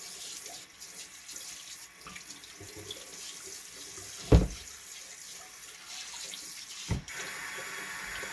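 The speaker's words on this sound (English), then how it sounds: "I'm washing this crock out. I want to rinse it out." Tap water runs steadily into a pickle crock as it is rinsed out, a continuous close splashing with two brief louder knocks or clunks partway through.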